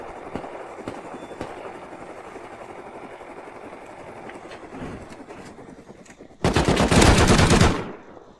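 Gunfire in the survival game Rust: a background of distant shots and scattered cracks, then a loud, sustained burst of rapid automatic fire lasting over a second near the end.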